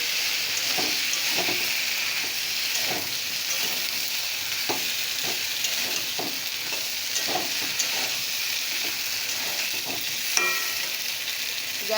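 Potato, ridge gourd and drumstick pieces sizzle in a pan of hot oil, a steady loud fry with repeated scraping stirs, no voices.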